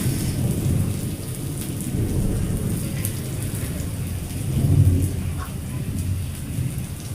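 Heavy rain pours down steadily in a morning storm while thunder rumbles and rolls through it, a dense, continuous wash of sound with no voices.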